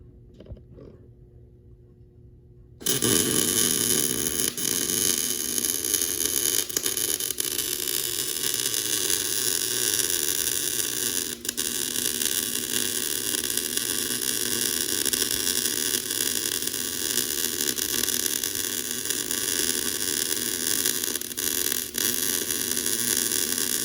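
Steady, loud crackling hiss of a horizontal MIG (GMAW) weld bead on steel, starting abruptly after a few quiet seconds and running continuously to the end with no talk.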